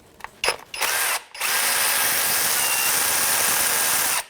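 A power tool spinning a 10mm deep socket to remove the oil pan bolts on a 1997-2006 Jeep Wrangler 2.4L, with a few short bursts followed by a loud, sustained whir close by.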